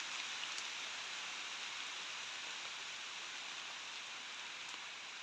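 Rain falling during the monsoon in Punjab, a steady soft hiss with no clear gaps, faint and even throughout, with no voices.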